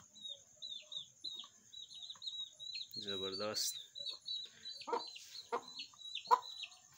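Chickens, a hen with chicks a few days old, cluck in short repeated calls close by, with a brief voice speaking partway through and light background chirping.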